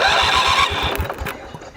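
A homemade redneck mower engine revving as the throttle opens: close, loud rapid chugging pulses with a rough, rising tone that breaks up and fades into sputtering.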